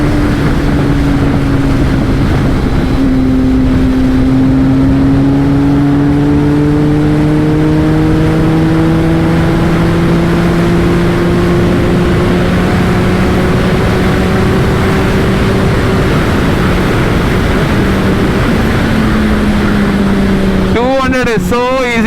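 A Triumph Speed Triple motorcycle accelerates hard toward top speed, its engine note climbing steadily through the gears under strong rushing wind noise, loud and continuous, with a brief burst of higher-pitched revving near the end.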